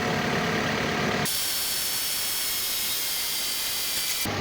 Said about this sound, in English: The AC pump is spinning now